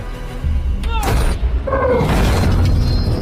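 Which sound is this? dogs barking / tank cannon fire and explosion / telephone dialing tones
tank cannon fire and explosion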